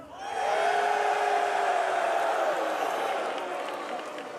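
A large arena crowd at the IEM Dallas 2025 Counter-Strike grand final between Vitality and MOUZ roars with mixed cheers and boos, a sustained loud wash that rises quickly, holds, then slowly fades.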